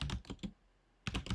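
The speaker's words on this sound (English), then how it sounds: "Josh, your keyboard is so fucking loud." Loud clacking of a computer keyboard during a podcast recording, a rapid burst of keystrokes, a brief lull, then another flurry, close to the microphone with no talking over it.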